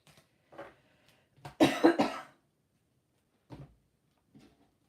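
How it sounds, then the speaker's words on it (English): A single hard cough bursts out near the mic, with a few faint breaths and small throat sounds before and after in a quiet room. "My desire for this cough to bugger off."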